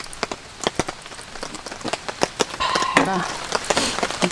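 Rain falling on a small car while camping, irregular sharp drops tapping the surface over a soft steady patter, with a voice speaking briefly partway through.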